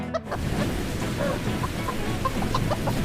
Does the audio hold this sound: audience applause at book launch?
no